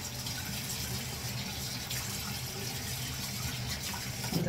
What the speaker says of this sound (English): I can add some more water here.